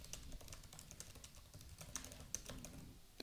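Quiet typing on a computer keyboard while writing JavaScript code, with rapid irregular key clicks and taps running throughout at close range.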